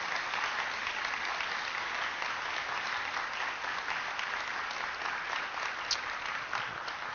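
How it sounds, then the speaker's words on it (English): Sustained audience applause at a civic commons community event, steady dense clapping from a large crowd filling the whole stretch at even loudness. "Please give them a huge round of applause."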